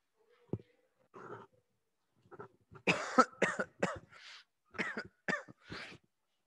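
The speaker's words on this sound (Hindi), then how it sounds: "खांसी भी ज्यादा हो रही है ना," A series of harsh coughs and throat-clearing bursts, close and loud, coming in uneven clusters with short pauses between them.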